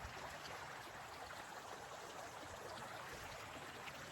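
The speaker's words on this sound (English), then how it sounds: "You want a video of just the river, stream, brook, whatever that is?" A small winter stream or brook in Connecticut flows steadily, a continuous soft rushing and trickling of water with no voices, even and unbroken for the whole stretch.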